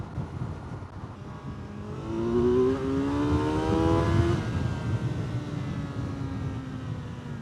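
A 2025 Kawasaki Z900 SE motorcycle cruises on a highway in sixth gear at about 70 mph and 5,000 rpm. Its engine drones steadily with a tone that rises briefly, then holds under heavy rushing wind noise.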